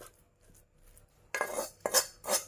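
A spatula clanks and scrapes against a pan while ground fatty pork dry-fries for Northern Thai larb: a few sharp metallic strikes after a quiet start, close and fairly loud.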